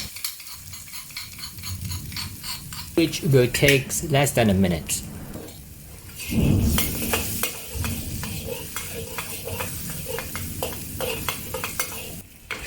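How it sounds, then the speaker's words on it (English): Garlic and chili sauteing in oil in a wok, with sizzling and the scrape and clatter of stirring, close and busy, under a voice talking. "Saute the garlic and chili until aromatic,"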